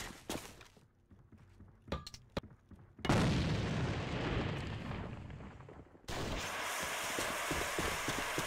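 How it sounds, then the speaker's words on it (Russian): A grenade blast in a multiplayer shooter match: scattered faint shots and thuds, then a sudden loud broadband boom that rumbles for a few seconds before giving way to sustained noisy roar, no talk. "Бросаю гранату!"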